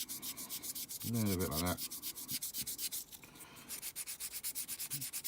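Sanding sponge rubbed in steady circular strokes over a plastic part of a 1:72 scale Airfix Vampire model, a rapid rhythmic scratchy rasp close up, with a brief voice speaking partway through.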